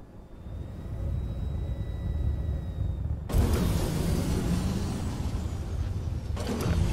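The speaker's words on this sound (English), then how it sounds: "Use afterburners to push all the way there on this one." Super Hornet fighter afterburners roar in the space-combat game Star Citizen, a steady loud jet rush that abruptly surges stronger partway through, with mechanical clunks and no talk.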